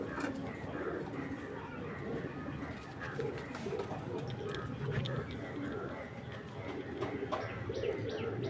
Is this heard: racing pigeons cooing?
yes